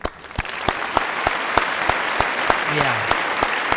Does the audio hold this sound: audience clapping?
yes